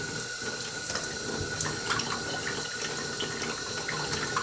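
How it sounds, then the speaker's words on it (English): Warm water runs steadily from a tap into a container while brine shrimp are being hatched, a continuous close hiss and splash with no talking. "Get a little hot water. It's really just warm water."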